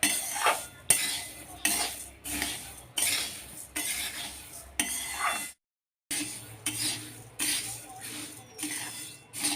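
Coriander seeds dry-roasted in a pan without oil for goda masala, a spoon or spatula scraping and clinking against the metal in repeated stirring strokes, close up, with one brief silent gap.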